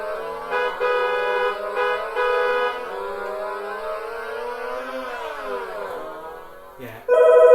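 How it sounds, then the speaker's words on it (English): A Casio CTK-1150 keyboard plays its telephone sound effects, a sustained electronic buzzing, ringing tone that holds and slowly bends before a sharp new tone starts at the end, close and clear with no talk. "Yeah. We've got phone sounds."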